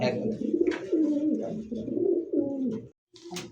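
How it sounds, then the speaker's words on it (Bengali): A Madrasi high-flyer pigeon coos close by in a steady, low, throaty run of rolling notes, broken by a brief pause before a short final sound. "এই মুহূর্তে একটা হাইফ্লার কবুতর দেখাইতেছি। কবুতর ডাকটা দেখেন।"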